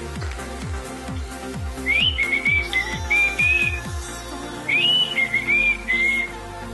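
A person whistles a lively tune in short, warbling phrases during an outdoor walk in Feldkirch, over a rhythmic low thumping of footsteps and steady background hum.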